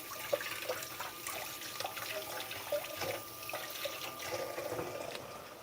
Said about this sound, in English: Washing vegetables, doing a terrible job at it.